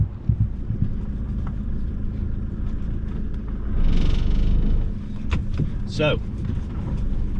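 A car driving out to an olive farm in Spain, its engine and road noise a steady low rumble throughout while a person talks over it.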